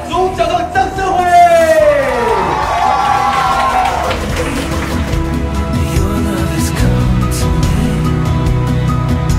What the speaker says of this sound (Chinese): 请用我们最热烈的掌声来欢迎我们的男主角